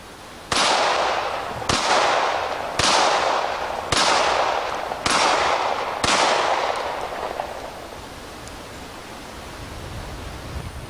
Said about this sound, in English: it's always fun shooting reactive targets